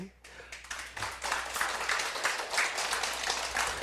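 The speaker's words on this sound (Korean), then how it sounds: "박수 좀 치봐요" Lecture-hall audience applause builds after a brief pause and continues as a dense, steady round of clapping from many hands, moderately loud and sustained to the end.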